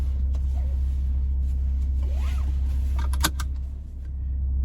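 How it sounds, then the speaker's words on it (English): A 2022 Mini Cooper Countryman S in sport mode gives a deep, steady engine rumble heard from inside the cabin, with brief clicks and a short rising tone over the drone and a slight dip in level near the end. "we're driving the 2022 Mini Countryman Cooper S"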